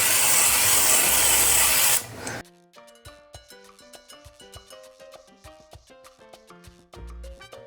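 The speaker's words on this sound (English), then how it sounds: "I'm going to spray the pan with some nonstick spray" Nonstick cooking spray hisses onto a pan for about two seconds in a loud, close burst, then stops and music carries on alone.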